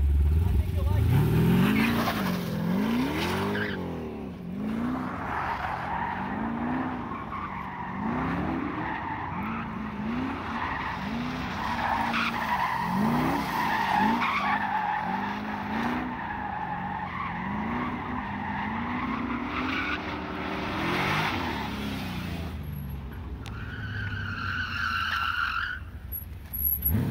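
Porsche Cayman with an LSV8 swap drifting on old tires, heard with continuous tire squeal and skidding over a wavering, revving engine note, fairly distant, with some voices underneath.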